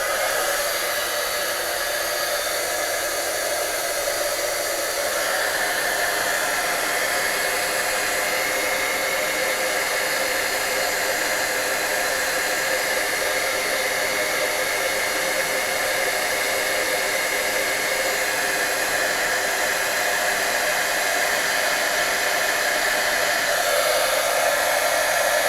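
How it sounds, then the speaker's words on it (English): A heat embossing gun blows hot air in a loud, steady whoosh that holds for a long stretch with a slight shift in pitch partway through, close by and alone. "when you use your heat embossing gun, make sure that you are not pointing it at yourself"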